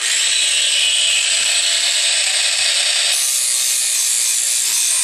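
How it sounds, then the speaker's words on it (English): Disc sander fitted with 80 grit paper grinding across a flat surface, a loud, steady abrasive rush that holds constant throughout, slightly shifting in tone partway as pressure changes. "tool is this disc sander. Now this thing has 80 grit paper on it."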